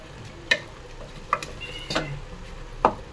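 Food being stir-fried (kosha) in a pan, with four distinct clinks and scrapes of a utensil against the pan over a low sizzle, spaced unevenly and fairly close.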